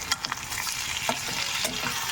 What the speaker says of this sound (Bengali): তো তেলের সঙ্গে এগুলোকে খুব ভালো করে ভেজে নেব।